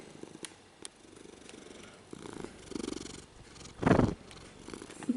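A cat purrs softly and steadily at close range, a low rumbling with faint chirps, in a quiet home setting; one louder rough burst of purring stands out near the end.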